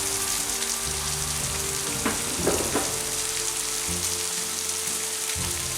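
Italian sausages and vegetables sizzle steadily on a Blackstone griddle, a constant moderate crackle with a few brief scraping sounds from a utensil midway.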